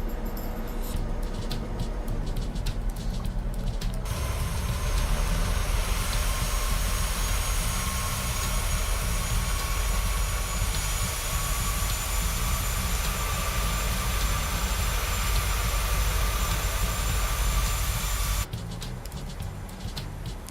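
Boeing 737-800 jet engines in a PMDG flight simulator give a steady, loud in-flight roar with a constant high whine running over a deep rumble for the whole stretch.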